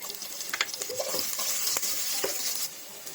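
Garlic and onion hit a hot casserole and fry with a bright, continuous sizzle, broken by a few quick spoon scrapes and clicks as they are stirred.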